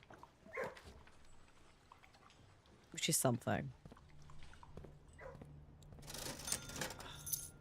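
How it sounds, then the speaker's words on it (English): Dog whimpers and barks from the video game Blue Prince, short yelps and a louder burst in the middle, heard under someone talking over the game. "there is going to be the sound of dogs barking"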